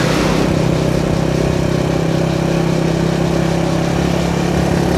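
An old motorcycle's engine runs steadily while riding, a loud, even mid-pitched drone with a constant hum and rumble throughout, close to the microphone, with no voices.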